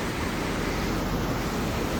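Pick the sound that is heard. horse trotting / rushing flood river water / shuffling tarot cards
rushing flood river water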